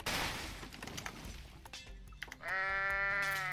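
Goat bleating in the video game Goat Simulator: one long, loud, harmonic bleat follows a stretch of crashing and clattering game noise.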